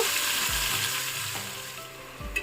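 Marinated chicken pieces frying in oil over a low flame, a steady hissing sizzle with a couple of dull thuds as pieces drop or shift in the pan.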